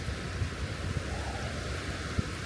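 Waves wash onto a beach, producing a continuous broad rushing roar with low rumbling and some wind buffeting on the microphone, steady and without talk.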